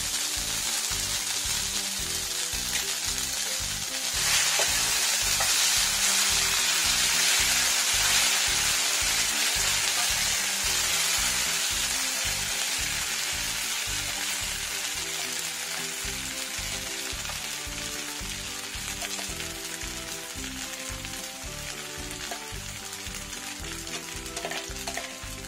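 Kharkol leaf paste frying over low gas after garlic, sizzling loudly and steadily in a pan for a long stretch while a spatula scrapes and stirs in a quick, regular rhythm.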